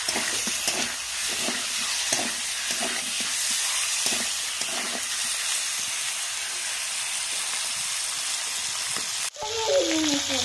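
Chicken fries in a pan at an outdoor picnic cook-up, a loud, steady close sizzle with occasional stirring that continues until a brief interruption near the end.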